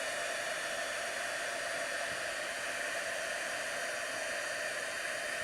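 A heat gun heat-embossing a handmade card gives a steady, even whirring blow of air that holds the same level throughout, with no talk.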